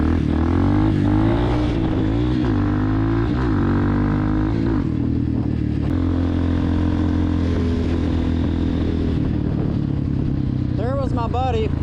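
A motorcycle ridden along a trail revs up and down through gear changes, loud and close under a constant wind rush, with a voice talking over the engine.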